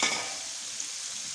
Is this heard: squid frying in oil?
yes